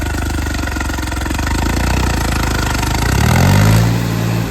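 A New Holland 3630 special edition tractor hitched to a cultivator runs nearby, its engine chugging in a steady low idle before revving up briefly near the end.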